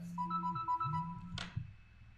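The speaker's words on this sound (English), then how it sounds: "my phone ringer was on" A phone ringtone plays a short, clear melodic chime of several repeated electronic tones, moderately quiet in a quiet room, followed by a brief knock of handling.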